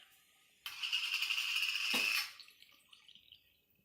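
Home-canned tomato juice poured from a jar into a pot of macaroni on the stove, a steady liquid splash lasting about a second and a half, close and fairly loud, then fading to quiet.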